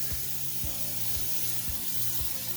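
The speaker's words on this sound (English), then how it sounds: "spray it all over the areas that can get rust buildup" A steady aerosol can of rust-proofing spray hisses continuously over a snow blower, with faint low rattling knocks repeating underneath.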